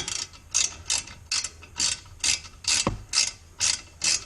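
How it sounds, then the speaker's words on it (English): A ratchet clicks in quick, evenly spaced bursts while cracking loose the brake caliper bolts on a 2013 Ford Focus, close and crisp, with one dull knock partway through. "I crack them both before I try and undo them"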